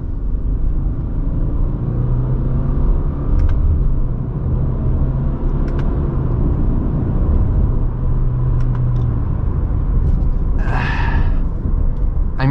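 Engine of a Subaru Crosstrek Wilderness on a downshift into second gear, a steady loud low rumble of the motor and road noise running continuously from near, with no talk.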